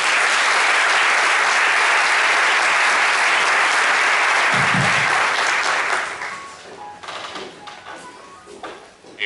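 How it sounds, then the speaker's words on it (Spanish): Loud, dense applause from a lecture audience welcoming a university speaker, holding steady for about six seconds before fading into scattered claps and room noise. "Un fuerte aplauso, por favor."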